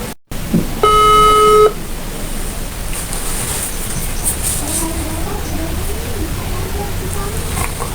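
A telephone call gives a brief electronic dial tone, then a quiet ringback tone pulses faintly over steady background hiss and noise.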